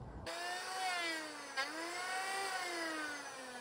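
An old router cuts tubing channels into a yurt's wooden floor, giving a steady, fairly loud high whine with shifting pitch and a brief bump in the middle, heard alone without talk.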